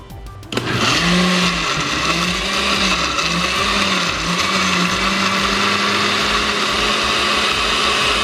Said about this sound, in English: Now we blend it up.